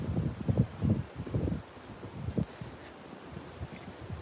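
Gusty wind blows outside a shipping container micro shop, buffeting the microphone in low rumbling bursts that are strongest early on and then ease into a steadier, softer rush.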